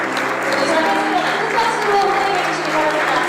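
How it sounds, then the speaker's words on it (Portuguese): An audience gives sustained, dense applause for the presidents of Brazil and South Korea at a formal welcoming ceremony, with a voice speaking over the steady clapping. "Pedimos a todos que se levantem e os recebam com uma calorosa salva de palmas."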